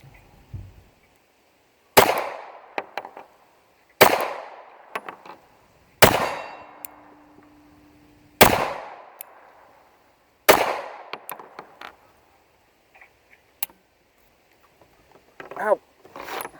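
FNS 9c compact 9mm pistol firing ball ammunition outdoors, five sharp loud shots spaced about two seconds apart, each with a short ringing decay, followed by quieter scattered clicks and a couple of faint later pops.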